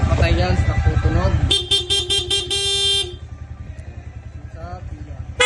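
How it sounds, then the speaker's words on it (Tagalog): A Yamaha Sniper 155 motorcycle horn sounds in several short, sharp honks in quick succession, loud and close, after someone speaks over the idling engine. "Busina naman po ni Sir, via horn"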